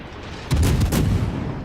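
A warship returns gunfire in the World of Warships naval battle game: a heavy salvo of cannon booms bursts in about a third of the way in, with several loud overlapping blasts and a rumbling tail, no talk.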